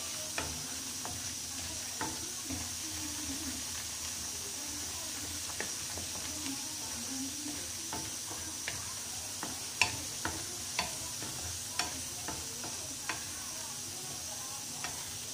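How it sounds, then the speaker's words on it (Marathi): Okra masala paste sautés in a pan with a soft, low sizzle while a spoon stirs and scrapes, giving regular light clicks and taps every second or so, fairly quiet and close with no talking. "छान असं परतून घ्यायचं. करपू द्यायचं नाही, त्याला फिरवत राहायचं."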